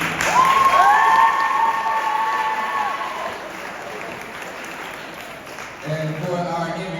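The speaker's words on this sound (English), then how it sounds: "give her a round of applause real quick" Applause at a TACA athletic banquet honoring a soccer player, a loud crowd of clapping that fades under whoops and a voice, then picks up again near the end with more voices.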